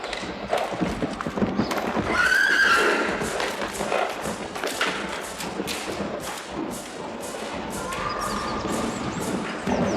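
A white horse performing in a circus act, hooves clip-clopping in a steady rhythm with thuds and a clear whinny, loud and close under music-like background.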